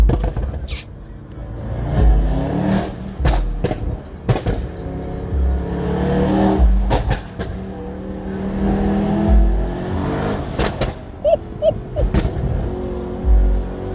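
Mercedes-AMG E63s W213 sedan with over 600 hp driving in race mode, its engine droning and revving loudly throughout with sharp bursts and crackles, while people talk over it inside the car.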